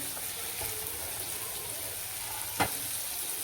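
Mixed vegetables such as capsicum, jujube pieces, green chickpeas and carrot sizzle steadily as they fry in a pan for a mixed bhaji, with a brief scrape of stirring near the end and no talk.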